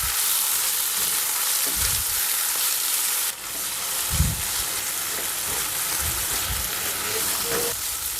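Spinach wilting in a hot pan, with a steady bright sizzle and hiss broken by a few soft low thumps and clatters of stirring; no talk.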